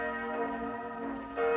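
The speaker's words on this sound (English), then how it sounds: "Ring the alarm bell" A loud, ringing alarm bell in a dramatized production of Shakespeare's Macbeth, with sustained clanging tones that swell into a stronger strike near the end, heard alone without voices.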